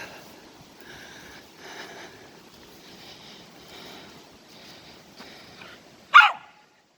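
A black dog on a windy valley walk gives a single sharp, close bark near the end, after a stretch of soft wind and faint outdoor rumble.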